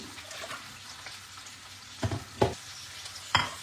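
Sesame-crusted tuna sears in a hot pan with a soft, continuous sizzle, broken by three sharp clacks of a utensil or pan near the end; no one speaks.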